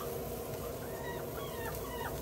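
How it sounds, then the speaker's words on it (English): Chickens cluck faintly in the background, several short calls rising above a steady broadband hiss throughout, with no one talking. "Listen to those chickens."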